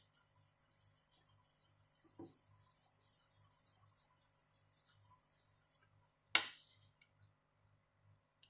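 A brush is worked lightly over a painting, a faint, soft rubbing with a steady low ticking beneath it and one sharper scrape partway through, recorded close and quiet.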